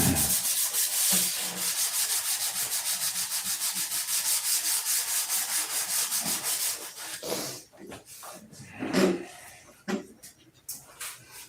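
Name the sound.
sanding primer on a P-47 model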